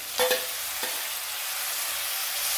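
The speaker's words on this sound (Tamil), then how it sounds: "ஒரு காஞ்ச மிளகா, கருவேப்பிலை, ஒரு தக்காளி போட்டுக்கலாம்" Green chilli, dried chilli, curry leaves and tomato hit hot oil in a pan for a chicken curry, giving a few sharp spattering pops at the start and then a steady close sizzle with no talk.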